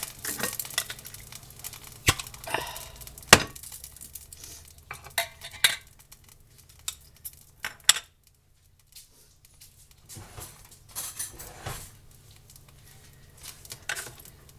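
A jar opener working on the metal lid of a canned burrito jar: scattered sharp clicks, taps and scraping metallic snaps at uneven intervals, close by, with quiet gaps between bursts.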